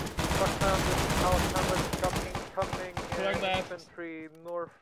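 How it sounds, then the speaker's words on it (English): Shotgun blasts and rapid gunfire in the video game Task Force Jormungandr, a dense burst of repeated shots that thins out, followed by voices talking over the tail end. "Shotgun, just lay waste to everything in there."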